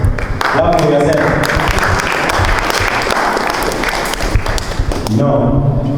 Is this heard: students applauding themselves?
yes